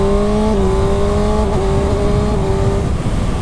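A 2019 Kawasaki Ninja ZX6R accelerates hard with its quick shifter, a loud, close, high-pitched engine whine that climbs and briefly dips as it snaps up through gears.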